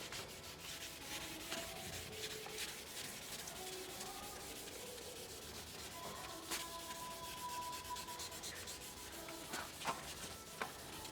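Sandpaper rubs across an oxidized, worn car headlight, steady close scraping strokes in a continuous rhythm with a few sharper scuffs, fairly quiet and with no talking.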